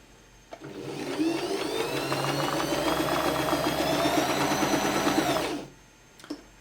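A Janome My Style MS22 sewing machine stitches steadily for about five seconds on a green stitch setting, a loud, close, continuous whirring hum that starts and stops abruptly, with a small click afterward and no talking.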